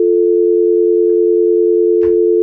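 A telephone dial tone after a call ends on a live sports-talk radio stream: one steady, loud, unbroken tone running the whole time, with a brief soft knock near the end.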